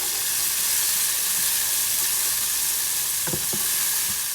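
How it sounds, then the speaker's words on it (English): Onions and garlic sizzle steadily in a pan with thyme and rosemary mixed in, a continuous close hiss broken by a few scraping stirs near the end. "And now that our onions and garlic cooked down, nice mix."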